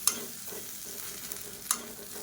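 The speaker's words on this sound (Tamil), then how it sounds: "இது எல்லாத்தையுமே நல்லா வதக்கிக்கலாம்." Coriander powder, chili powder and turmeric being sautéed in a pan give a faint, soft sizzle, with a few scraping stirs of a spoon; no talking is heard.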